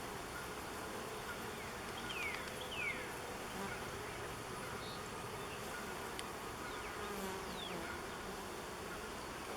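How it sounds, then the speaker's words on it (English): Honeybees buzz steadily around a hive frame during a colony split, a dense continuous drone close by with a few louder bees passing near, no talking. "I got bees in my way for my finger to go, so I just gently nudged them out of the way."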